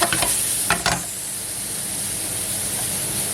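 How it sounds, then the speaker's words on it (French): Caramelized apples being stirred in a pan for crêpes give off a loud close sizzle and hiss, with a few scraping stir strokes at the start before settling into steady frying. "On mélange."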